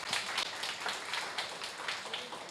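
An audience at a talk event gives a steady round of applause to welcome a speaker to the stage; the clapping is a dense, moderately faint wash with no voices over it.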